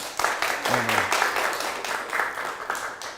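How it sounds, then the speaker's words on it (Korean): Audience applause in a school multicultural-education class, a steady wash of clapping lasting a few seconds at moderate level, with a brief voice heard near the start. "우리 세 분한테 박수 한번 부탁드리겠습니다."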